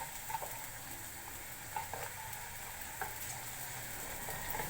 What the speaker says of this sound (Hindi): अब इसमें डालेंगे चॉप्ड ऑनियन, थोड़ा सा सौते करेंगे।